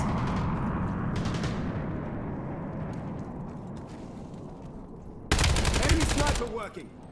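Sharp sniper rifle bursts crackle over a noisy rumbling background in Call of Duty Black Ops 7, with a loud rapid volley near the end; faint speech is mixed in.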